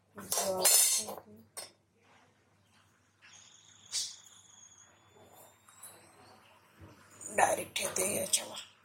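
A metal lid set onto a pot heated with salt and a rack inside, for baking pizza. Clinks and clatter give way to a sustained metallic ring, with a speaking voice and more clanking at the start and end.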